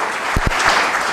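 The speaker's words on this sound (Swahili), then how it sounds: "Tuwapigieni makofi pamoja na bishop wetu" A brief burst of audience applause at a memorial service honouring a bishop, with dense clapping filling a large room.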